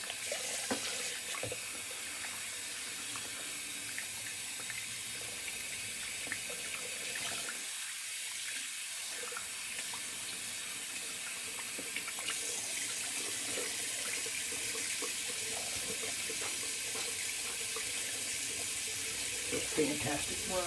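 Warm water runs steadily from a bathroom sink tap during a wet shave, a continuous close hiss with a brief softer dip partway through.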